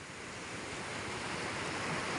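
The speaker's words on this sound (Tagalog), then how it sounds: "Lilit naman na alon, hindi naman malalaki, diba? Pinong-pino naman yung alon." Small, gentle sea waves make a soft, continuous wash and hiss of surf, fairly quiet and even, with a faint windy rumble underneath.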